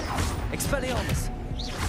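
Expelliarmus spell cast in the video game Hogwarts Legacy, a sharp magical whoosh with a crashing burst, loud and close over dense game sound and a voice in the background.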